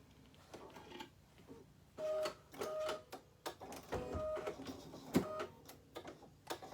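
Embroidery machine stitching out a design with yellow Isacord thread, a steady mechanical whirring and ticking with brief louder bursts and tonal hums, close by and alone without talk.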